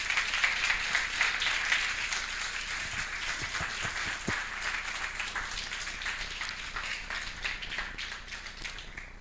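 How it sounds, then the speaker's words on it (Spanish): A church congregation claps together in a steady, moderately loud wash of applause that carries on throughout, with a few sharper individual claps near the middle. "¿Por qué no le das un fuerte aplauso al Señor?"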